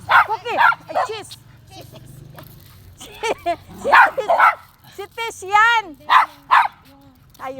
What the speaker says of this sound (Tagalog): Malaki dami ng mga aso.